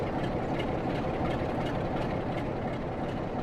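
A Class 46 diesel locomotive idles in Train Sim World with a steady, loud, low engine rumble and broadband drone that holds unchanged throughout, with no talking.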